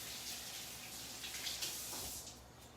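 Tap water runs steadily into a kitchen sink while something is rinsed during meal prep, a continuous close hiss and splash that eases off near the end.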